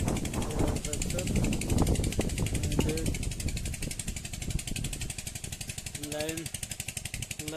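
A tractor engine chugs with a fast, regular pulse beside a sugarcane field in strong wind, running throughout beneath someone talking nearby.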